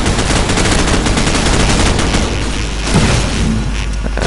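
Sustained bursts of machine gun fire in a Call of Duty multiplayer match, dense and continuous with heavy booming shots throughout, loud and close with no talking.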